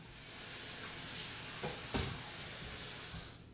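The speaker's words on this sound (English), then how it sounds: "so I'm gonna rinse it off" Canned white beans rinsed in a strainer, a steady rushing hiss of running water with a couple of brief splashy bursts, fairly faint and with no talking.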